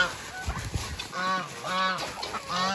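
Geese honking at feeding time on a farm while eating banana peels, loud repeated nasal honks in quick bursts from several birds close by, with no talk.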